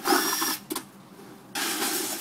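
A power drill drives a screw through tin soup cans of a homemade rocket stove, with a brief whirring burst, a short pause and a second loud close whir.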